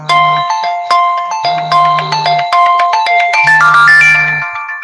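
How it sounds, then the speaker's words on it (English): A phone ringtone for an incoming call plays loudly and close as a bright electronic melody of repeating tones, with a low buzzing pulse underneath at intervals. "Hold on, I got a phone call here."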